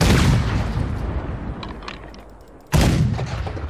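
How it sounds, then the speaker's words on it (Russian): Two heavy cannon booms from Red Dead Redemption 2: a loud blast at the start that trails off into a rumbling decay, then a second sharp, loud shot near the end. "Огонь, Артур. Но стреляет довольно быстро"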